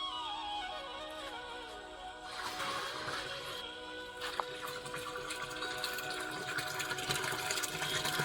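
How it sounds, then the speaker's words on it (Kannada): Twelve litres of milk pour into a panchagavya mix being prepared for an areca nut plantation, a steady splashing, gushing stream of liquid that continues throughout at moderate volume. "ಅದ್ರ ಜೊತೆಗೆ 12 ಲೀಟರ್ ಹಾಲನ್ನು ಹಾಕ್ತಾ ಇದೀವಿ."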